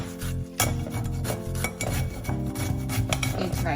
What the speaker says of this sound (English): Just going to grate it like this.